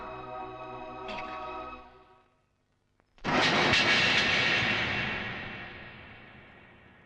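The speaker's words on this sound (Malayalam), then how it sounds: "ലേഹയുടെ ഫ്ലൈറ്റ് ഇപ്പൊ പോയി കാണും" A passenger flight roars overhead after a brief hush, the broad engine noise bursting in loud and close, then slowly fading as it moves away.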